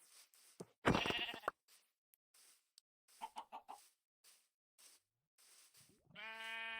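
Sheep bleating in a video game, several short bleats and clucking calls scattered across a quiet stretch, close and clear, with a voice speaking at the end.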